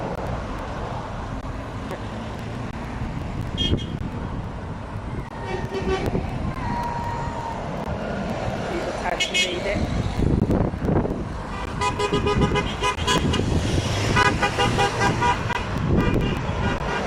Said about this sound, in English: Got plenty of honking going on.